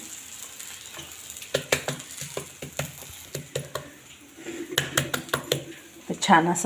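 A snack roasts in a pan, with intermittent clinks and scrapes of a utensil against the pan over a light sizzle while someone speaks briefly.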